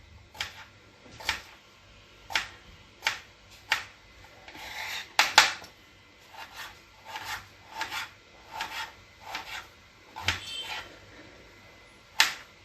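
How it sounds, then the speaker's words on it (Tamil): Beetroot and potato being cut into small pieces on a board, a run of crisp knife chops at a steady, slightly uneven rhythm, up close with no talking. "Beetroot small and the potato small so that they cook very fast."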